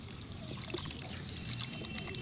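Water poured into a pot of cooking potato curry, a soft, close trickling and splashing that runs steadily for a couple of seconds, quiet and without talk.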